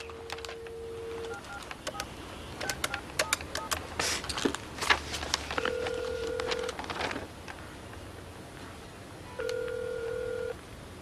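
Telephone keypad tones beep in a quick series while calling a taxi company, followed by a few longer steady dial tones separated by brief pauses and clicking.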